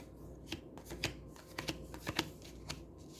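Tarot cards are shuffled close up in quick, soft riffling bursts and taps, with a few cards flipping out of the deck, heard quietly and without talk.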